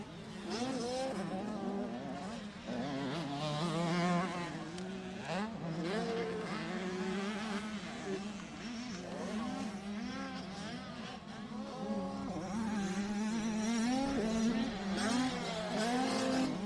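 Kids' motorcycles racing at Lake Elsinore Raceway make a constant high, wavering engine whine as several bikes rev and rise and fall in pitch together, loud and unbroken.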